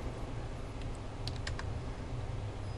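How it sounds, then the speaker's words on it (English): Keys tap on a computer keyboard during a drafting session, a quick cluster of a few light clicks over a steady low background hum, close and fairly faint, with no voice. "type in"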